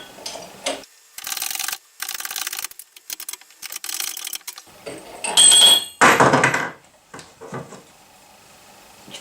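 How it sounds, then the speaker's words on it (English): Bursts of metallic rubbing and scraping in short repeated passes, with a few sharper clicks and knocks as bearings are pressed into the gear cluster of a Bosch Performance Line CX e-bike motor, up close. "We're going to put the bearings back in the gear cluster assembly now"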